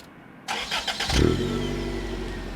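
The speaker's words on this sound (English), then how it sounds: "I fire up the car again, the engines loud in the still of night." A car engine cranks with a few starter whirs, then catches and settles into a loud, steady idle, close by in a quiet night setting.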